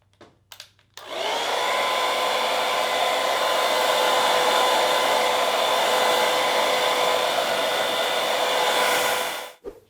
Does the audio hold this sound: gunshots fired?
no